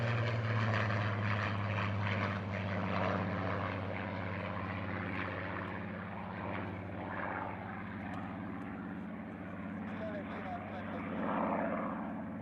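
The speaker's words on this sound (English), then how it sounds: "Straight away from that opening pass, you can hear those magnificent engine notes" A North American Mustang with a Packard Merlin engine and a Supermarine Spitfire PR.19 with a Rolls-Royce Griffon make an opening pass at an air display, a loud, steady propeller drone that swells and fades with a droning engine note throughout.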